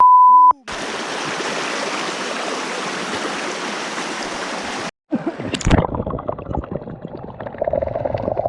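Water rushes at Sastha Falls, a waterfall running low, as a steady broad hiss that breaks off briefly and then returns with a rougher gurgle and wind buffeting.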